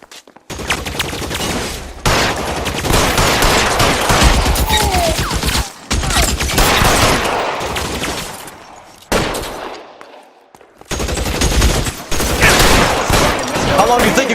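Repeated gunfire bursts from the LA Noire video game, loud, dense volleys with brief gaps, a chaotic firefight with rattling shots layered over game sound.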